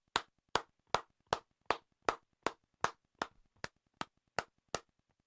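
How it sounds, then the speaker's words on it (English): A dozen evenly spaced hand claps, crisp and close, sound one after another at a steady rhythm, alone with nothing else in between. "We'll give you a few claps"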